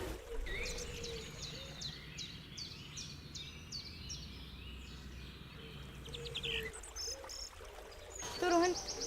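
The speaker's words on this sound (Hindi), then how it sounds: "अपने कान भी खुले रखने चाहिए जिससे हम पक्षियों की आवाज़ सुन सकें।" Small birds chirp and twitter in a park, a run of quick repeated calls over steady background rush and faint murmuring, with a louder trill near the end.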